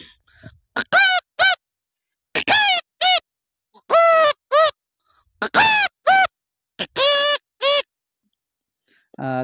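A person's voice imitates a rooster crowing at dawn, giving about seven short, strained, honking calls in quick succession, each clear and close, separated by brief silences.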